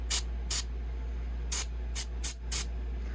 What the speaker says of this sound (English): take just a little brake cleaner and spray the threads out.